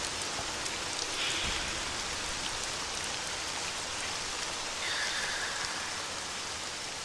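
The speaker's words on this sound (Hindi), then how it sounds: "बारिश की बूंदें तेज धार वाले चाकू की तरह लग रही थीं" Steady rain falls in a forest at night, a dense, even hiss of drops that holds constant with no voices.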